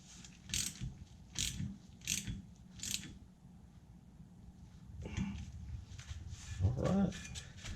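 Repeated ratchet clicks while a bolt on a disc brake conversion kit is tightened, several short evenly spaced strokes, then softer handling noises and a faint bump, close by with no talk.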